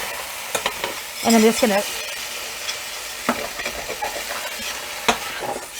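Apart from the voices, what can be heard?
scraping pan with added tomatoes to lift brown bits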